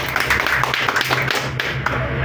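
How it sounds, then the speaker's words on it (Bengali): An audience at a distributors' program in Sherpur, Bogura, breaks into brisk, scattered clapping that continues throughout, with voices talking over it. "এবার উভয়ের জন্য একটা করতালি হয়ে যায়"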